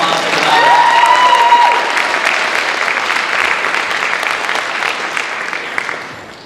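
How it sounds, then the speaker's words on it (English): A full round of applause at a university Hawaiʻi Club lūʻau, loud and dense at first, then gradually thinning as the crowd's clapping winds down. "Can we get another round of applause for that?"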